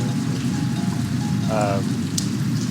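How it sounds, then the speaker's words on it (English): Steady, continuous rain falling on surfaces, part of a sound design ambient track that moves from birdsong toward thunderstorms and wind, forming a dense, even wash throughout with a few brief tonal bits over it. "now it's raining a little bit"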